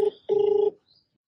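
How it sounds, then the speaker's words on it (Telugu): A phone dials out with two short electronic tones, a brief beep followed by a longer steady one, clear and close, then silence. "ఫస్ట్ విన్నర్కి ఫోన్ చేద్దాం."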